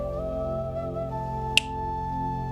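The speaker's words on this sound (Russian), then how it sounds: "Щелчок пальцев, и все развеялось." One crisp finger snap rings out sharply midway through, standing alone against a quiet background with a steady low hum.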